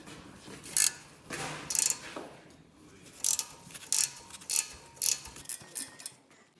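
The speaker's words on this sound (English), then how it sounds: "I take a gear wrench just to make it a little quicker." A gear wrench ratchets a nut loose on the front lower ball joint of a Dodge Caravan, producing bursts of quick, sharp metallic clicking that repeat at irregular intervals over a quiet background.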